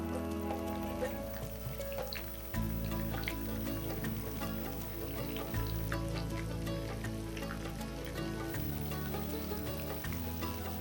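Fish popcorn frying in hot oil: a dense, continuous crackling sizzle with scattered pops, heard close up and steady throughout with no talking.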